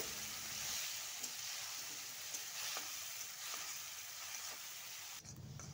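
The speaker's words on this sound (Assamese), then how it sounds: "এইখিনিও আমি অলপ ভাজি ল'ব লাগিব, এইখিনি যাতে কেঁচা গোন্ধটো নাইকিয়া হয়।" Ground onion, ginger, garlic and tomato paste fry in hot oil in a pan, a soft, steady sizzle with faint stirring scrapes, broken by a louder clatter at the very end; no one speaks.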